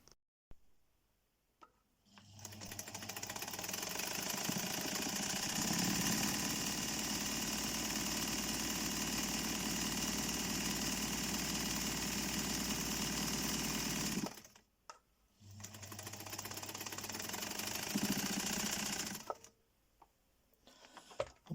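A sewing machine runs in two long stretches with a steady mechanical whir and rattle, stopping briefly between them; close by, no talking.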